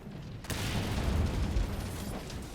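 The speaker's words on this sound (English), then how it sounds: "Look at all those explosions." Wyvern ammo fired in Monster Hunter World sets off a dense burst of rumbling explosions, a loud sustained crackling boom lasting a couple of seconds after a sharp onset.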